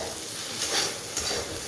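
Ivy gourd (kundri) fries in oil in a pan, a steady close sizzle with a couple of brief scraping stirs, no talk.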